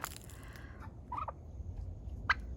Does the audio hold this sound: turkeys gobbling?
yes